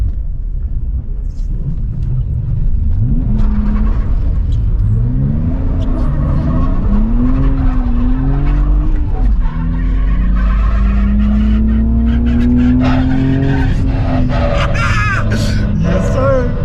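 Cheap drift car spinning out, engine revving and rising and falling in pitch with tire skid noise and road rumble, loud and close inside the car while people talk.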